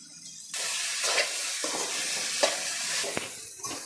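Cooked radish being stir-fried with spice masala in a pan over low heat; a continuous close sizzle starts abruptly after a short quiet moment, with occasional spatula scrapes and clicks.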